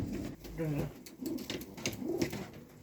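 Pigeon cooing from an antique-breed breeding pigeon, a young hen, heard in a loft; a few low rolling coos, fairly close, mixed with people talking over them.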